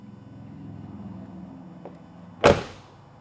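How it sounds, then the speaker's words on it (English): A 1997 GMC Suburban 1500 4x4's door shuts with a single firm, solid thud after a few seconds of quiet low background rumble, the impact close and loud before quickly fading. "Door closes nice and firm."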